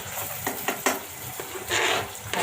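Onion with whole spices and cumin being sautéed in a pan: a steady close sizzle with scraping spoon strokes against the metal, several sharp clinks, and a brief louder surge of frying near the end.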